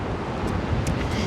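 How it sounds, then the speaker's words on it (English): Outdoor wind buffets the microphone in a steady low rumble, with soft gusts swelling briefly over the roar. "It is quite windy out here."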